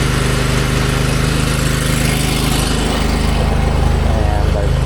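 A pressure washer's engine runs steadily on a commercial sidewalk cleaning job at a large plaza, a loud continuous droning hum held close throughout with no break.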